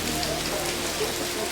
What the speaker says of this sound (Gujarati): બહાર તો વરસાદ ચાલુ થઈ ગયો છે